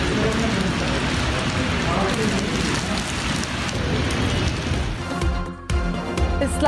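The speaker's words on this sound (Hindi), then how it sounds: "इस्लामाबाद रावलपिंडी में सुबह सवेरे मूसलाधार बारिश।" Heavy early-morning downpour over Islamabad and Rawalpindi, a dense, steady hiss of rain pattering on surfaces that briefly thins near the end.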